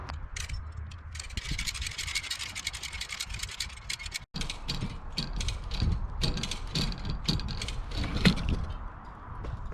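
A pulley ratchet hoisting an object clicks in rapid, continuous bursts of close metallic pawl ticks, with a brief pause midway before the ratcheting resumes.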